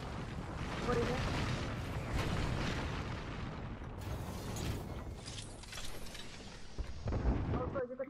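Airstrike explosions in Apex Legends rumble as a run of heavy, rolling booms with creaking, mechanical clatter, dense and fairly close throughout, with a few sharper blasts near the end.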